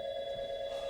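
A telephone rings with a steady electronic tone, held continuously and fairly clear for just under a second with no voices.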